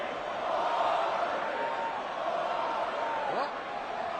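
Restless wrestling crowd murmuring and buzzing steadily at a Brock Lesnar vs Goldberg match, a broad sustained roar with a few faint calls rising out of it, heard from a distance without any sharp cheers.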